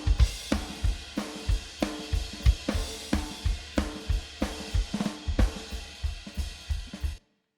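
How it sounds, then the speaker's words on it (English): A drum beat loops steadily, with punchy kicks and sharp snare and cymbal hits in a tight, regular rhythm. "we've got a drum track here, and it sounds like this"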